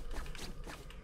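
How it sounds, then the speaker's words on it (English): A weapon reload in Borderlands 2 gives a quiet sequence of mechanical clicks and creaks, several short metallic clacks spread across about a second. "Well, might as well reload, I guess."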